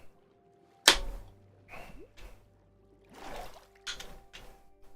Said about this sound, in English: You're going to hear me open a can of Dr. Pepper.